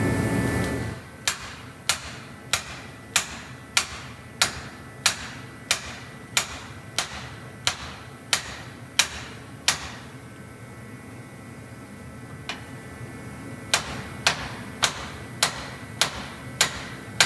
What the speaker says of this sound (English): A cheap air hammer knocked that kingpin out in 5 seconds.